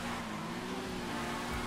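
The Shotaro motorcycle in the video game GTA 5 Online races along with a steady, droning engine note that holds at a constant pitch and volume throughout.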